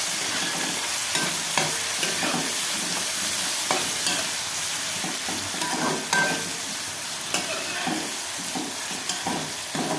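Sautéed onions mixed with chopped chillies and tomatoes crackle and sizzle in a pan, broken by repeated scraping stirs that come at an uneven rhythm over about ten seconds, with no talking.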